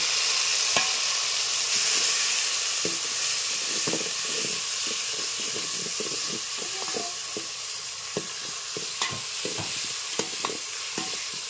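Garlic fries in hot oil with a steady sizzling hiss, broken by repeated sharp clicks of a spoon stirring the pan, close and continuous without speech.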